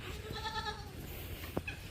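Goats bleat indoors in a muddy farm shed, a few short wavering calls close by over a low background rumble, with one sharper thud or knock near the end.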